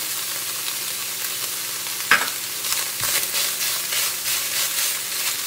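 Garlic sizzles in a pan with ground beef, a steady frying hiss broken by a sharp clink and a few stirring scrapes.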